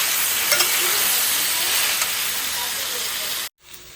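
Onions and soya chunks fry in a pan for broccoli fried rice, giving a loud, steady, hissing sizzle close up that cuts off abruptly near the end, followed by quieter background.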